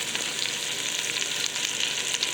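Brinjal (eggplant) pieces frying in a pan, a steady, close sizzle that crackles continuously with no speech over it.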